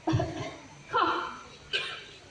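A trained bird at a bird park show imitates a human cough, giving three short rough coughing bursts spaced about a second apart, close and fairly loud.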